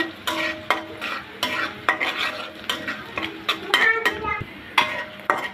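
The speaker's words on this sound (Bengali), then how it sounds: "পেঁয়াজটা একটু ভেজে নিব।" Onion frying in soybean oil while a spoon scrapes and clinks against the pan in a steady stirring rhythm over a soft sizzle, close and clear with no talk.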